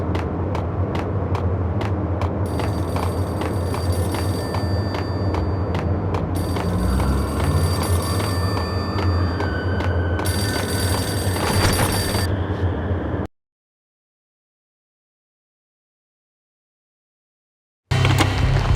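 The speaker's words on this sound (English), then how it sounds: "The payphone started to ring." A payphone rings in the Max Payne video game, repeated bell-like trills over a steady low rumble of game ambience, then a silent gap before sound returns briefly at the end.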